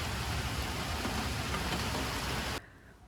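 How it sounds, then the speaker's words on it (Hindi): Heavy rain pours steadily as a dense, loud wash of drops, then cuts off sharply near the end, leaving a much quieter background. "बादल आ चुके थे और ज़बरदस्त किस्म की बारिश स्टार्ट हो चुकी थी"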